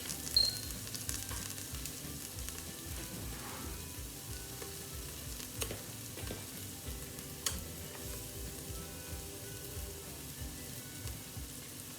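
Garlic frying in oil in a pan for a fish curry, a steady, close sizzle with soft crackles and faint stirring scrapes, continuous throughout without any talk.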